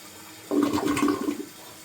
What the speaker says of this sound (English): give it one normal flush